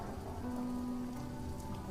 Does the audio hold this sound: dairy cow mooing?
no